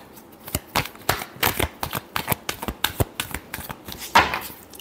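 Tarot cards are shuffled by hand in a quick run of crisp, uneven riffling slaps and flicks, close and fairly loud, ending with a sharper snap.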